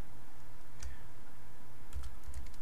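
Keys on a computer keyboard tapped in short scattered bursts while text is entered into a design tool, a few clustered clicks near the start and a denser run toward the end over low background hum.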